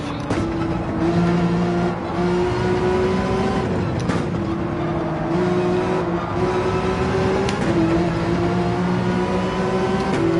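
Race car engines in Gran Turismo 7, a steady loud drone of high revs held for the whole stretch, dipping briefly at gear shifts and lifts as cars run close together on track.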